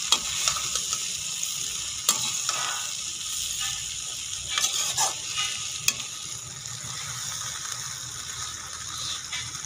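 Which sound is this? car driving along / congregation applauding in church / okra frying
okra frying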